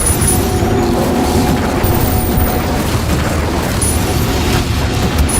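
Incendio fire spell bursts in the video game Hogwarts Legacy, a continuous rumbling roar of flame and impacts with repeated bright crackles, loud and close.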